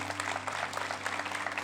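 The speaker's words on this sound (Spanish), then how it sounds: "Aplauda si quiere hacerlo." Church congregation applauds during a sermon, a soft, steady patter of clapping under a low electrical hum, fairly distant and quiet.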